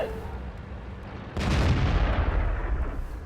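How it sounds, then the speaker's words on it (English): A World of Tanks artillery shell strikes its target with a sudden loud boom, followed by a heavy, rumbling crackle of blast and debris that sustains for nearly two seconds over faint battle ambience. "And artillery finally finds its target"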